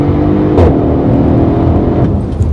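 A Mercedes ML 63 AMG engine with 557 horsepower accelerates hard, its loud, close, rising growl building steadily with a brief sharper rasp early on.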